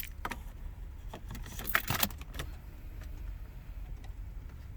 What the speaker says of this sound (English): Now you're gonna put the key in.